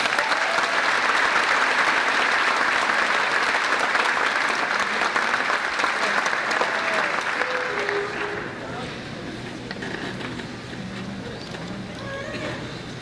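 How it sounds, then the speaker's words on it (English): A crowd applauds at a high school graduation ceremony: loud, sustained clapping for several seconds that settles into a quieter murmur of voices and chatter. "Let's give them one more round of applause."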